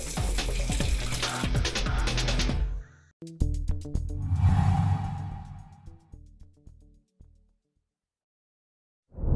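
Water pours steadily from a tap for a few seconds, breaks off, then resumes with splashing as skin is rinsed under the stream before fading to silence; no one speaks.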